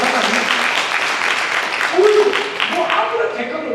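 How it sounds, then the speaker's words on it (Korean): A church congregation at a joint teachers' worship service applauds its teachers, steady applause from a crowded room with a brief voice rising over the clapping. "우리 교사 선생님들이 한 박수 한번 하십시다."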